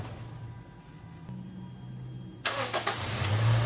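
After a quiet idle hum, a Toyota Innova engine cranks and catches in one quick start after an oil change and spark plug and fuel filter replacement, then settles into a steady running rumble nearby.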